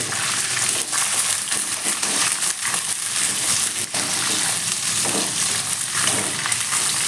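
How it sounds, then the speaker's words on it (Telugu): Chopped red chillies fry in hot oil in a pan, giving a loud, continuous, close sizzle with occasional stirring movement throughout and no speech. "ఈ పండు మిర్చి అనేది బాగా ఫ్రై అవ్వాలి"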